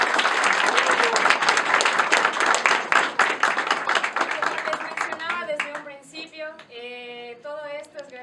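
An audience at a university mathematics lecture bursts into loud, sustained applause for the geometry group, a thick wash of clapping that thins out and gives way to someone speaking.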